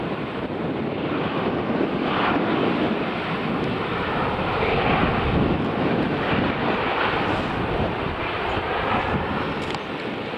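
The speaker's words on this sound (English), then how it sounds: "Just coming into land is an A350, Singapore Airlines." A Singapore Airlines A350 landing at Manchester Airport gives a broad, steady jet roar, heard from outside with wind buffeting the microphone throughout.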